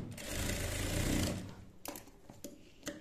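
A sewing machine stitches piping onto the round neck of a lined blouse in one steady whirring burst of just over a second, followed by a few sharp clicks and handling sounds.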